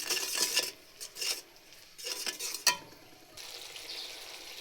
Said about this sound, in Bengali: মশলাটাকে ভালো করে কষিয়ে নিতে হবে